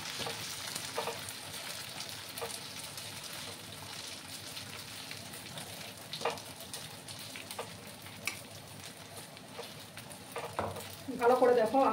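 Rice flour batter sizzles softly and steadily as a ladleful is spread around a pan over low heat, with faint scraping and a louder clatter near the end.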